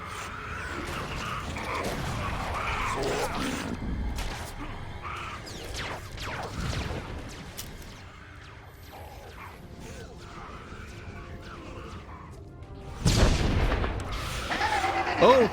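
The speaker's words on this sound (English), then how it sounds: "Blaster fire! Get down!" Blaster fire in Star Wars: The Old Republic, scattered sharp shots and mechanical clanks amid battle noise, with a louder burst near the end, under voices speaking.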